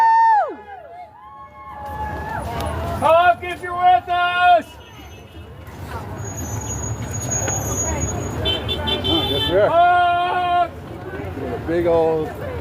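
Passing cars honk in support of a street protest march, with several tonal horn blasts coming in bursts amid crowd babble, cheering, traffic noise and people talking nearby.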